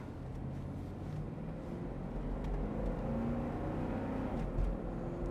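A 1999 Chevrolet Suburban 4x4 engine hums steadily with low road rumble while driving, a continuous moderate drone heard from inside the cabin.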